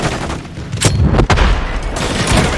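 A stun grenade bursts in a shooter game, a loud boom amid continuous crackling gunfire, with a sharp bang around the middle and dense, rumbling battle noise throughout.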